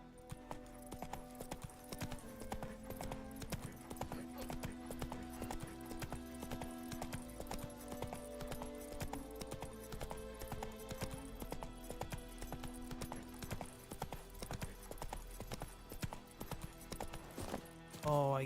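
Roach, the horse in The Witcher 3, trots with steady, rhythmic clip-clop hoofbeats over game music, with faint talk in the background.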